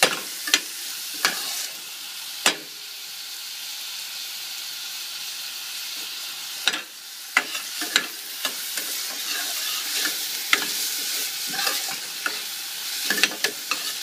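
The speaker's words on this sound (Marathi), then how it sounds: "आता ही लसूण आणि कांदा जरा परतून घ्यायचा." Chopped onion and garlic sautéing in a pan, a steady hissing sizzle broken by sharp intermittent clacks of a spatula stirring against the pan, close and without talk.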